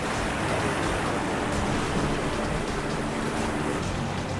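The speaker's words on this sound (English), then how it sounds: "the harsh waves threaten to crush the victims between the ferry and the raft" Harsh ocean waves surge around a rescue ferry and raft at sea, a constant heavy wash of churning water and wind, loud and unbroken throughout.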